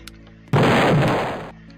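A single loud, noisy blast erupts suddenly in the Roblox game Lumber Tycoon 2 as an object is destroyed, holds for about a second, then fades away.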